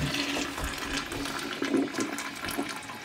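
A household toilet flushing up close, with a steady rushing swirl of water that runs the whole time and never lets up, loud and alone with no voices.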